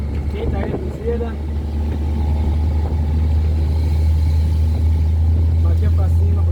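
A Ford Cargo 2428 truck engine rumbles steadily with a deep, constant low drone, close and loud, while people talk and car sounds carry faintly in the background.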